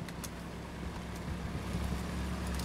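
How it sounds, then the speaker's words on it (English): A Sherman tank drives in the World War II shooter Hell Let Loose, a low, steady engine rumble with grinding track noise that swells slightly, heard alone. "Enemy Sherman coming down the fucking hill."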